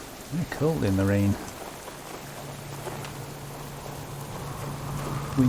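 Rain in a video game falls as a soft, continuous patter behind the scene, briefly covered early by a louder tonal game sound, then settling into a steady faint wash with a low hum.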